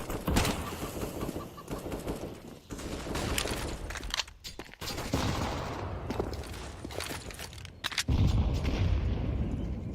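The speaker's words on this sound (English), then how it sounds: "Everybody's throwing grenades, but like flexing, doesn't really do much" Grenades and gunfire in a Counter-Strike match on the Inferno map, with dense bursts of blasts and shots layered into a busy, continuous game mix during a DreamHack Fall 2020 pro match.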